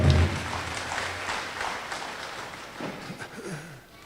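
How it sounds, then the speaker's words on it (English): Audience applause at a university graduation ceremony, a dense wash of clapping that swells at the start and slowly fades, with faint voices rising toward the end. "Let's give our Legionnaires a big round of applause."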